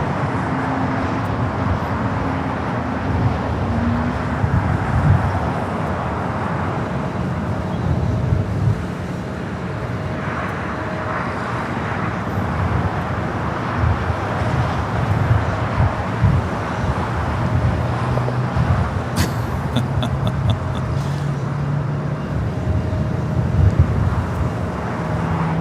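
A Fiji Airways Airbus A350-900 arrives from Nadi and taxis to the west gates at LAX, heard as a steady broadband jet rumble mixed with wind and distant traffic. A brief high whine rises near the end.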